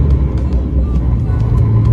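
A loaded truck's diesel engine idles with a steady low rumble, heard up close and continuous on a farm with no voices.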